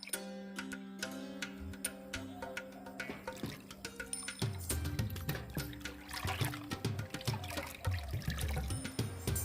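Rice-washing water poured into a container of plain water: soft trickling and splashing with small clinks, growing louder and busier partway through as the pour continues.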